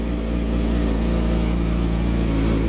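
2012 Yamaha YZF-R6 sport bike engine running and revving, a loud sustained buzzing drone close to the microphone that rises slightly and holds steady.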